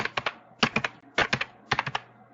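Quick bursts of computer keyboard typing while writing game code in Code.org Game Lab, four clusters of crisp, close key taps with short pauses between them.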